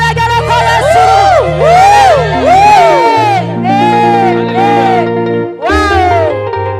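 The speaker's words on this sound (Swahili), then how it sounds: "shangwe na vigelegele kwa Yesu" At a live gospel praise concert, a crowd cheers with loud, wavering ululations that swoop up and down over sustained instrumental music and fill the hall.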